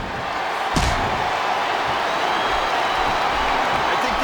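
Crowd noise from a WWE Smackdown vs Raw 2007 arena fills the space as a steady broad roar of cheering, broken by one sharp slam early on, with commentary voices beneath.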